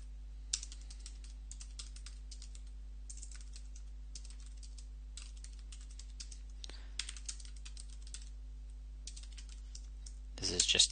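Keys on a computer keyboard are tapped in quick bursts of soft clicks with short pauses between them, close and fairly quiet over a steady low electrical hum.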